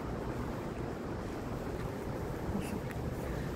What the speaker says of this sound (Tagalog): Sarap ng hangin, oh. Malamig siya.